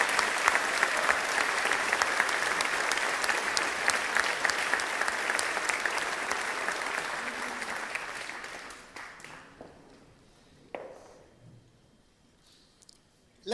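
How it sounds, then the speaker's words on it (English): A graduation ceremony audience for a pharmacy school class applauds loudly in a dense, sustained wash of clapping that fades out after about eight seconds, leaving a quiet hall with a few scattered sounds. "Let us give a round of applause to all those who have helped make today a success."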